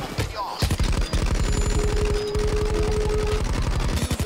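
Rapid bursts of gunfire from snipers in the video game Payday 2, loud and dense, crackling shots packed closely in a steady stream for several seconds with little pause.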